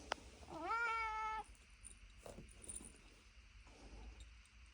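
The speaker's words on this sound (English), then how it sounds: "That's Bob the Train Cat" A cat at a model-building workbench lets out one clear, drawn-out meow at close range, followed by quiet room tone and faint clinks of small tools.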